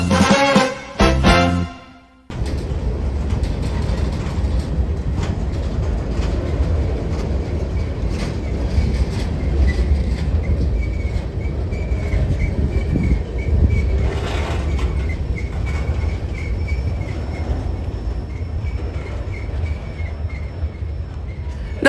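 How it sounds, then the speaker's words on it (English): A long mixed freight train rumbles steadily past close by at Brunswick, wheels clattering and occasionally squealing, after a brief burst of louder noise at the start. "now that the mixed train has passed"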